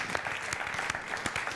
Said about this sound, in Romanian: Nic, Mihale, aplauze!